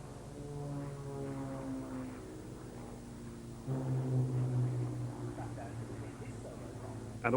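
An aerobatic display aircraft flies past at the 1996 Royal International Air Tattoo at Fairford, UK, its steady droning engine rising in loudness partway through as it nears, with a broad, tonal hum throughout.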